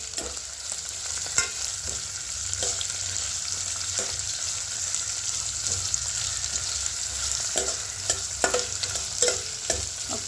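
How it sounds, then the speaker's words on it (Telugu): Chopped onions frying in a pan for a home-grown brinjal curry, a steady close sizzle with scattered scraping and stirring clicks throughout, no talking. "సో ఇది ఒక 5 మినిట్స్ ఫ్రై అవనిద్దాము."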